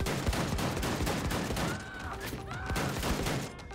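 Shotgun blasts and surrounding gunfire fill a busy firefight in the shooter game Wolfenstein II, with dense, overlapping shots throughout and a brief lighter stretch midway.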